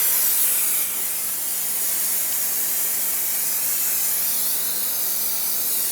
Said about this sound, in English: spray brake parts cleaner